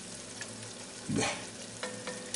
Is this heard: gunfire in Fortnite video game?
no